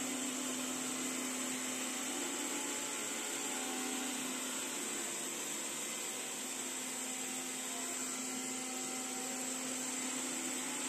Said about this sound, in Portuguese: Esse aspirador aqui